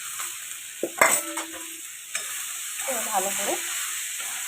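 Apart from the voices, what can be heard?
fried crab sizzling in spiced oil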